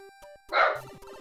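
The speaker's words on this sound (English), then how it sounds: "My dog is angry." A dog gives one short, fairly loud bark in a room where beeping game tones from Super Mario Bros. 3 play around it.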